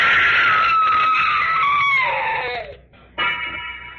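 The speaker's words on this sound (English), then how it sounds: "Wish I never heard that scream." A woman's long, shrill scream in a radio drama holds high, slides downward and breaks off, then a second sharp scream starts up after a short gap.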